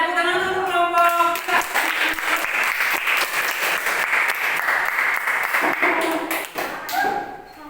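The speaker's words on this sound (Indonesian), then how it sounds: "Ya, tepuk tangan dulu kelompok." An Indonesian school class claps for a student group about to present, with brisk, continuous applause throughout and a few voices heard at the start and end.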